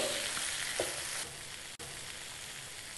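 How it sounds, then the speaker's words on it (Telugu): Ginger fry chicken gravy sizzles steadily in an open pan as it is stirred, with a soft scrape of the spoon against the pan early on, close and even. "ఇలా కలుపుతూ మూత ఓపెన్ చేసి ఉంచేసేయాలి గ్రేవీ అంతా కూడా దగ్గరకు వచ్చేసింది"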